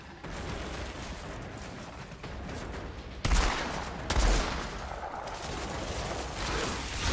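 Dense, continuous gunfire from a new weapon in the shooter game Outriders, rapid shots blending into a steady roar with two louder bursts partway through, close and loud, no talking.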